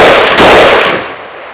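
Single loud crack from a Century Arms WASR-10 rifle, a sharp report followed by a fading tail.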